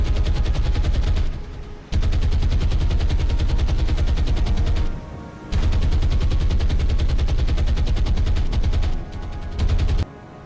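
Warship main guns firing in War on the Sea, Battle for the Atlantic, a loud sustained roar of heavy gunfire broken by brief lulls near 1.5, 5 and 9.5 seconds, with no talking.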